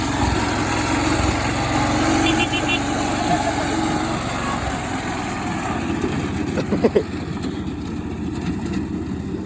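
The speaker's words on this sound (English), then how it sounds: "last night he drove this freaking lawnmower" A small riding lawn mower engine drones steadily throughout, running close by, with a few brief knocks and clatters near the end.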